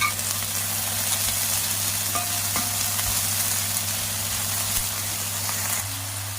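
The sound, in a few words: frying and stirring in pan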